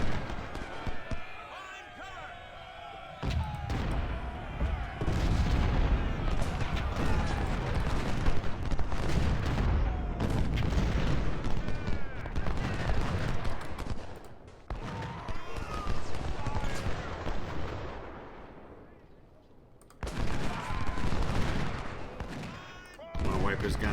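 Thunderous 24-pounder cannon and artillery barrages in the Ultimate General: Civil War game, dense overlapping booms and gunfire rolling continuously with brief lulls, heavy low-end impacts throughout.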